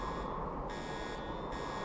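A warning alarm buzzer from the game Counter Side sounds at a steady, fairly quiet level, pulsing in two long bursts over a continuous electronic drone with no talk.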